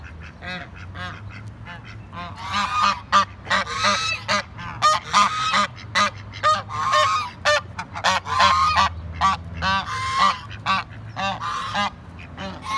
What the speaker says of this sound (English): Lately, these geese like to chase me.